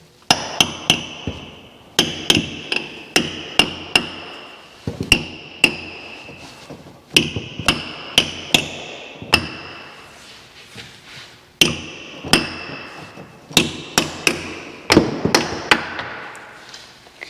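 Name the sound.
brass hammer striking metal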